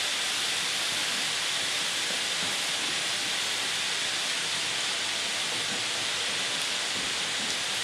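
Leeks sizzle with sausage meat in a hot pan, a loud, steady, broad hiss that stays constant from start to finish with no voices over it.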